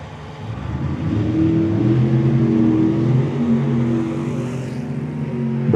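A supercharged small-block 1955 Bel Air drag car launching at a Tucson dragway: a loud, sustained engine roar that holds steady and surges slightly, with no talk over it.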